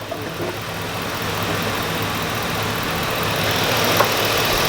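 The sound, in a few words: truck engine noise heard inside the cab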